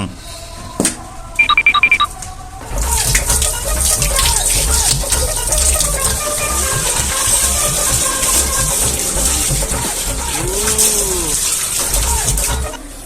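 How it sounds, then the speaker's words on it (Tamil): A few beeps and clicks, then a steady loud gush of water poured out to chase off a dog, splashing for a long stretch, with faint voices underneath. "என்ன இவ்ளோ தண்ணி சத்தம் கேக்குது"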